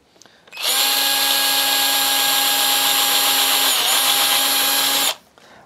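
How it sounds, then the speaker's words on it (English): A power drill with a small bit boring a pickup hole in a Telecaster guitar body, a loud steady whining buzz that starts sharply, holds nearly constant with a brief dip in pitch, then cuts off. "I'm drilling the hole smaller so that I can use the pickup hole as the as the guide"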